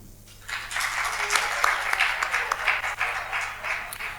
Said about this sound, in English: So a big round of applause to you, Chief, and your team